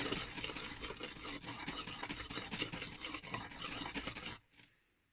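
Steady rhythmic scraping of a chipped cheap knife stroked back and forth across a King whetstone by hand, close and continuous, stopping abruptly near the end.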